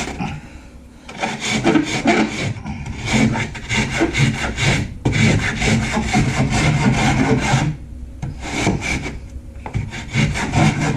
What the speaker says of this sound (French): On va gratter le bord pour retirer la feuille